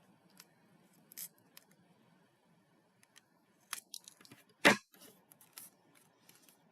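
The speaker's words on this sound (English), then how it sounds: "Just going to trim this a little extra right here." Heavy-duty scissors trimming thick paper for a 3D fan-out craft project, with a few sparse, close snips in a quiet room and one louder, crunchy cut near the end.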